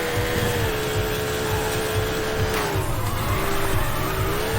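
A race car in a Sega Model 3 arcade game spins out, its tires squealing in long wavering screeches over a constant engine roar, loud and close with no voices.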